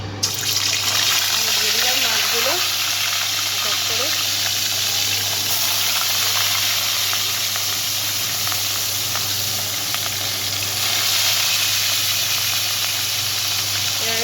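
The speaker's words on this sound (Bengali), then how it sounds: "আমার তেলটা গরম হয়ে এসছে এবার আমি এর মধ্যে এক এক করে মাছগুলো ছেড়ে দেবো" Continuous loud sizzling and hissing of fish frying in hot oil, steady throughout, with a voice briefly speaking early on.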